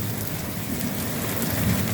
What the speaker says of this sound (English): More rain and hail coming.